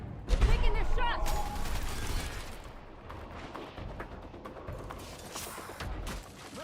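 Enemy gunfire crackles in a military video game: a heavy opening burst, then scattered shots and mechanical clatter that keep going under a speaking voice.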